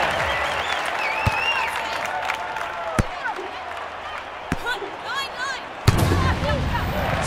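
A steady roar of crowd cheering and applause fills a beach volleyball final in the London 2012 Olympic video game, broken by a few sharp thuds of the ball.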